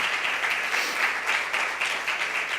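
Church congregation applauding in praise during an evening service, a steady broadband wash of clapping from many hands that holds evenly for the whole stretch with no voices above it.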